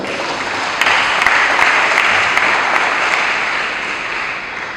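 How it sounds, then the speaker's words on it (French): Steady, dense applause from a congregation at a Catholic thanksgiving mass honouring a deceased man, sustained evenly throughout with no voices. "Si nous pouvons l'applaudir, très sincèrement."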